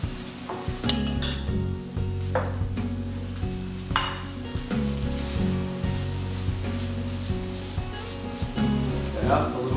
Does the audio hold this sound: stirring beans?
yes